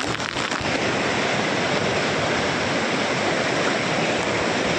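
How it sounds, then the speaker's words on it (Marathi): Constant loud rush of a waterfall, broad and roaring, close by with no pauses or voices. "पाहू शकता तुम्ही अशा रीतीने हा धबधबा आहे, सुंदरसा छानसा."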